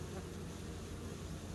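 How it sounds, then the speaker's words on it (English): Honeybees fanning their wings at a hive entrance to move air and regulate hive temperature make a soft, steady, continuous buzz, faint and brief, with no voices. "there's bees right at the entrance holding on and all throughout the inside, making a large pipeline of bees that create a current."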